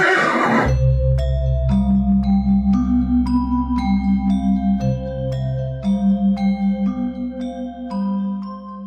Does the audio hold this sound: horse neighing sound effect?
yes